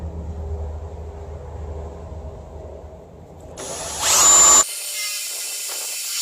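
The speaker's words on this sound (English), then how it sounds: "now that I have all 4 holes drilled out" A step bit bores 5/8 inch holes in a trailer, a low grinding drill hum that gives way to a brief, loud, high-pitched whine, then steady noise continues.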